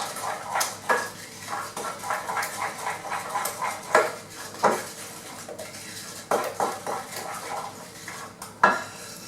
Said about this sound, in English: And again, just stir it.